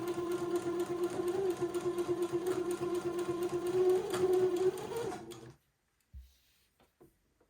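Sewing machine running steadily as it stitches a narrow 1/8-inch seam joining two pieces of fabric for a smock collar, a close, continuous whirring hum with rhythmic needle chatter that stops abruptly before a couple of soft knocks.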